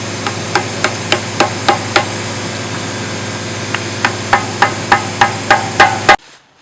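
Hammers and tools striking rock and wood pieces while shaping hardscape for a large aquarium, a steady run of sharp, evenly spaced knocks close by over a constant humming background, ending abruptly.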